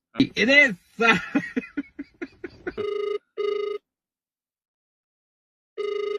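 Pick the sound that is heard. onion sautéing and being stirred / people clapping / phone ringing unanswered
phone ringing unanswered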